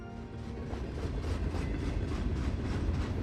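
A train rolls steadily along the rails with a dense low rumble and a faint repeating clatter from the wheels, loud and continuous with no talk.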